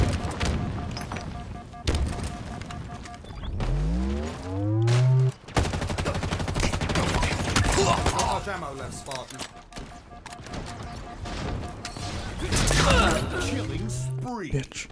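Rapid bursts of gunfire and heavy booms from a Halo multiplayer Fiesta match, loud and dense, mixed with other in-game weapon and effect sounds across the whole stretch.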